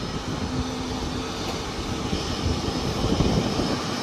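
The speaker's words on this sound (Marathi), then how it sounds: "हे आता कोणतरी लँड झाला ना प्लेन तर हा मागचा आहे तो टेक ऑफ घेणार." An airplane landing or taking off near Mumbai airport makes a steady, broad jet roar that holds at an even level and swells slightly toward the end, with no voices.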